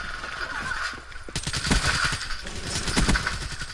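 Rapid gunfire from a gun in a video game, close and loud bursts of repeated shots with mechanical clatter, running almost continuously.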